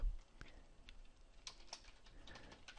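Quiet typing on a computer keyboard, a scattering of soft key clicks at an uneven rhythm, close and faint with no voices.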